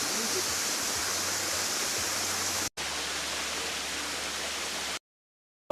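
Digisit Falls, a waterfall, pours as a steady broadband roar close by. The rush breaks off briefly, resumes, then cuts out near the end.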